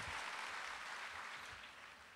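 Steady audience applause at a 2011 convocation, a dense even wash of clapping that holds for a couple of seconds and tapers slightly at the end.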